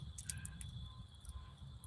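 Crickets and small frogs chirp on a clear, cloudless night outdoors, a steady high insect trill with scattered brief chirps over a low rumbling background, fairly faint and continuous.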